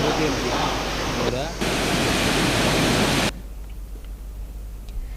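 Water released from the Nagarjuna Sagar dam rushes into the right canal with a dense, loud, continuous roar. It then drops abruptly to a softer, steady flowing hiss.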